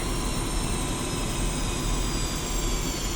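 A Su-25T attack jet taxiing in the DCS World flight simulator, its engines giving a steady, dense roar with a high whine, loud and continuous throughout with no talk.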